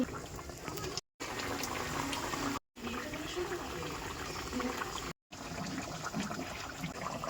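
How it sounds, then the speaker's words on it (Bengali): Taro-corm curry bubbles at a steady boil in a pot, a dense, continuous wet burble that stays fairly even throughout, broken by a few short silent gaps. "তরকারি ফুটে গিয়েছে"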